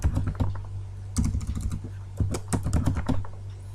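Rapid clicks from a computer keyboard, typed in bursts with short pauses between them, sound close and fairly loud over a faint steady hum while data goes into an Excel spreadsheet.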